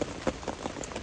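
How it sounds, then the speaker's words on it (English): Wind-driven rain spattering against a tent at a campsite in bad weather, a steady soft patter with a few louder gusty bursts of drops, faint and close, with no voices. "That's just the wind, I think,"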